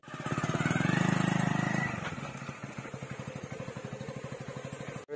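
A Hero motorcycle runs close by while being ridden near a wetland in Assam, its single-cylinder engine chugging rhythmically, loud at first and then settling into a steady, slightly quieter beat.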